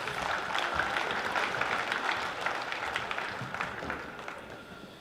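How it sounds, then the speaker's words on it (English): Round of applause at a basketball championship awards presentation in Palmerston North's Fly Palmy Arena, a dense crowd clapping throughout, steady and fairly distant, tapering slightly toward the end. "Round of applause for Mr."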